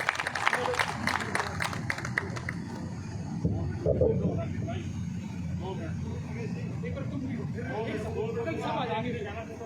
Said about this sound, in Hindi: एक बार जोरदार तालियों से एक बार स्वागत करने की अपील करूंगा